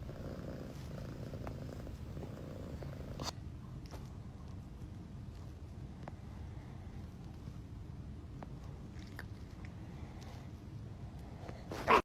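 A cat purrs steadily and close up, a low continuous rumble that keeps going throughout with a few faint clicks and rustles over it.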